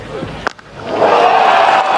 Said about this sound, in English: The biggest cheer of the day greets the first maximum